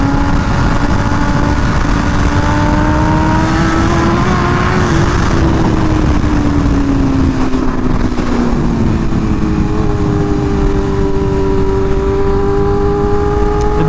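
A BMW M1000RR sport motorcycle rides through a canyon, its engine note rising and falling steadily through gear changes, loud and continuous with wind rush throughout.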